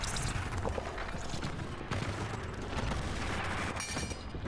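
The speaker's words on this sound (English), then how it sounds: "We're getting sniped at from east northeast as well." Distant gunfire in the video game Hyper Scape, a steady wash of faint shots and battle noise across a continuous busy backdrop, with no clear single sniper crack standing out.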